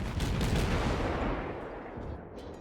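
Loud, dense broadband rumble of destroyer guns firing from the Farragut in World of Warships, a continuous volley of overlapping blasts that stays heavy throughout and eases slightly toward the end.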